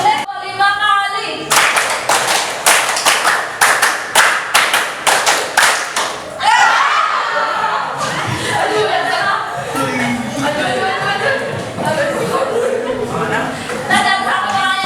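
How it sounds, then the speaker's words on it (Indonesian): A group claps hands in rhythmic counted bursts, a run of sharp close claps, followed by a looser spell of scattered claps and thuds under chatter and laughter. "Tepuk 1 kali, tepuk 2 kali, tepuk 3 kali, tepuk 4 kali, tepuk 5 kali"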